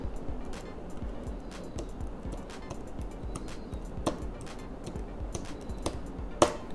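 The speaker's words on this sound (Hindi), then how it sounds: "आप आसानी से ब्लूटूथ कीबोर्ड से टाइप कर सकते हैं" Typing on a Bluetooth keyboard used with a Samsung smart TV produces a steady run of close, light key clicks at an irregular pace, with one sharper tap near the end and no speech.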